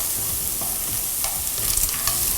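Surf clams stir-fry in a hot pan for Thai drunken-style pasta, with a constant close sizzle and a few scraping strokes from the spatula.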